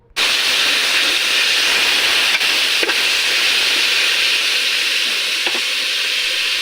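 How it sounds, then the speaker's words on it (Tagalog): Ground pork sautés with garlic and onion in a pan, a loud steady hissing sizzle that starts abruptly and holds throughout, with a few faint clicks of stirring and no talk. "isinunod ko na rin pagisa itong giniling"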